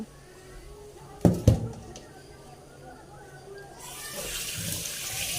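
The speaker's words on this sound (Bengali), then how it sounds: "ভালো করে ধুয়ে নেব আলু আর পটলটা" Potatoes and pointed gourd being washed in a bowl of water: a couple of sharp clatters and splashes early on, then a steady faint rush of running water building toward the end, with low background noise throughout.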